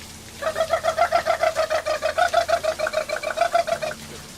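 A voice imitates a kookaburra's call, a rapid run of rhythmic, laughing hoots lasting about four seconds, close and fairly loud.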